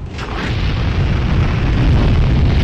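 Heavy, booming rocket explosion from Return to Castle Wolfenstein on PS2, a loud sustained rumble of blast and debris filling the whole stretch with no voices over it.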